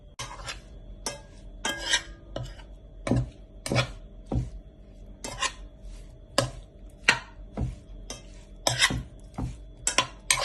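A spatula stirs spicy prawn masala in a pan, making a steady run of sharp scrapes and taps against the metal at an uneven rhythm, close up, with no voices.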